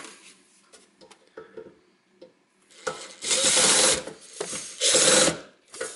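Phillips head screwdriver working screws out of the casing of a Toyota car's central computer, with soft scattered clicks and handling noises followed by two louder sustained bursts of grinding, ratcheting turning.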